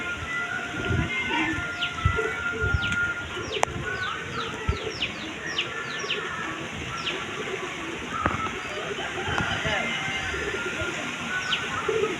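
Pigeons feeding their chicks in heavy rain, with soft cooing and fluttery calls repeating over a constant wash of rainfall, and a voice talking in between.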